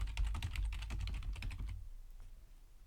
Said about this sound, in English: I'll type in thank you